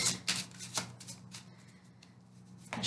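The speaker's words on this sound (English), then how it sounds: "shuffle." Tarot cards being shuffled by hand, close and quiet: a few soft riffling bursts and rubbing swishes with short pauses between, ending in a louder riffle.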